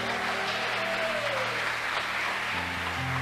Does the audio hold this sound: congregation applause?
yes